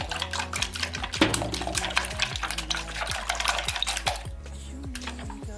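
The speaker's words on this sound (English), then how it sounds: "And then beat that too. Let's whisk it." Three eggs are whisked briskly in a bowl for pancake batter, a fast, rhythmic run of wet clicks and taps against the bowl that eases off near the end, with no talking.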